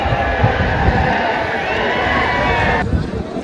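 A large outdoor crowd at a bullock cart race in Pusegaon roars continuously with a dense wash of cheering and shouting, steady and loud throughout, cutting off abruptly near the end.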